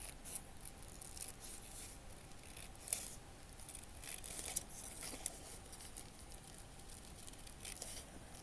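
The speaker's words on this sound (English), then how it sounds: "I'm just gonna cut the outside border here" Scissors trim the outside border of a small piece for a miniature cat cafe garden room box, giving quiet, crisp snips and rustles spread unevenly across the stretch.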